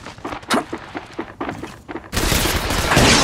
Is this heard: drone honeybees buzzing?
no